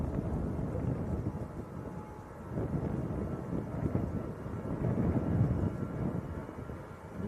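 An easyJet Airbus A320 bound for Venice rolls down the runway at Manchester Airport, a steady low, distant engine rumble with gusty wind noise that swells and eases over several seconds.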